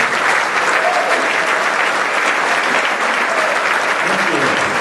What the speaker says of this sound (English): how about a nice round of applause for all the bands this evening?